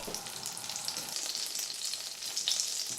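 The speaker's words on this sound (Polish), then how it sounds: "Na patelni rozpuść masło." Butter melts in a frying pan with a gentle, close hiss and sizzle that swells slightly toward the end, with no voices.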